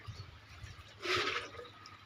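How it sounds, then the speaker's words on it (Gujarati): Water gushes into a water tank being cleaned out, a short loud rush swelling mid-clip and fading away over a quiet low background rumble. "આ બાજુ પાણી આવે છે"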